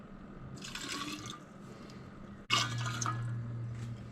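Tequila is poured in two short bursts for a tamarind margarita, liquid splashing into a glass with a trickling fill, a brief pause between pours and a sharp clink as the second pour begins.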